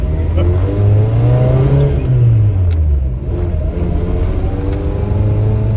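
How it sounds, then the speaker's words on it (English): A Suzuki Samurai with a swapped-in 1.6L 16V engine pulls away, its close, loud engine note rising and falling steadily as it accelerates. A low rumble runs throughout. "we're taking a little test drive"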